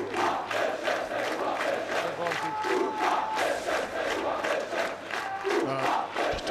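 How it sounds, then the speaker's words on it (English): Schoolboy rugby crowd of Bishops supporters at a match against Rondebosch, a steady roar of cheering and chanting voices that swells and dips continuously throughout. "the Bishops crowd starting to warm up"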